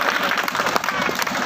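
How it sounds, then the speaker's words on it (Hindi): Audience applause at a school Independence Day celebration, a dense steady patter of many hands clapping, loud and continuous. "ताली बजा दो।"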